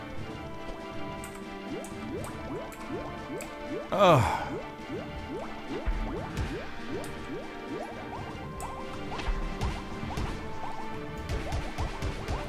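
Water mage attack effects in the Cube World video game: a loud splashing, gurgling burst partway through, surrounded by repeated watery pops and squishes over game music, with a brief groan from a player.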